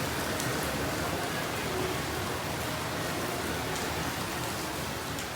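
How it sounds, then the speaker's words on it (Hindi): Steady outdoor drizzle patters continuously on surfaces, a dense even wash of fine raindrops at moderate level with no pauses. "ये नहीं रुकेगी आज बारिश।"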